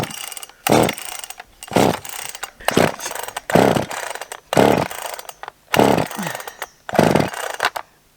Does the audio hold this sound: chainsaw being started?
yes